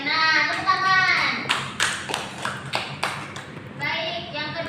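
Students in a classroom clap together in short bursts of hand claps, mixed with children's voices and a teacher talking.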